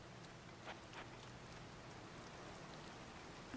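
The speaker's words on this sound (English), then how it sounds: "I would like to wait until it's not raining anymore" Steady rain falling in the video game The Legend of Zelda: Tears of the Kingdom, a soft continuous hiss of drops at low level with a few faint patters, no voices.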